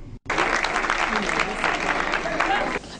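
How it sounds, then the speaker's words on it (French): Sustained applause from a forum audience, a dense steady clatter of clapping hands that starts after a brief gap and holds evenly loud for nearly three seconds before easing off slightly at the end. "Joe Washington Ebina avait été fortement ovationné et applaudi"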